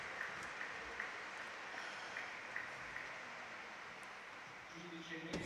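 An audience applauds to greet Professor Sabino Cassese at a conference on freedom in public space, a steady, faint wash of clapping from across the hall that runs throughout, with a few brief voices near the end.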